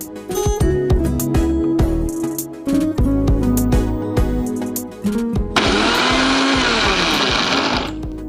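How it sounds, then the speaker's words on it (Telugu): A mixer grinder grinds roasted peanuts into flour in a home kitchen, its loud, steady whirring motor burst running for about three seconds near the end and cutting off abruptly. "ఇది మిక్సీ పట్టేసి వస్తారా?"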